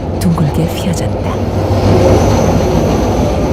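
A Mugunghwa passenger train runs along the winding S-curves of the Gyeongjeon Line, giving a steady, loud rolling rumble and rushing noise throughout, with faint voices in the background.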